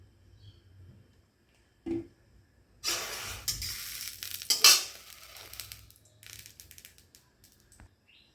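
Mustard oil hitting a hot wok, crackling in two bursts of sizzle with some metallic clatter of cookware in between, fairly close with quiet gaps around it and no talk.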